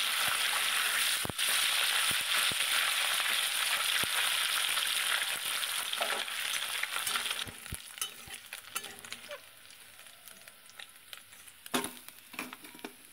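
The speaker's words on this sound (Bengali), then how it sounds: "এবার মাছগুলো একটু উল্টে দেব।" Small puti fish, about 250 grams, frying loudly in a hot pan and being stirred and flipped, a steady bright sizzle with scraping knocks that fades to softer crackling later.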